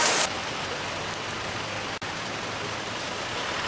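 Heavy rain pours steadily in Bantul, an Indonesian area prone to flooding, a dense unbroken hiss that stays loud and even throughout with a brief dropout midway.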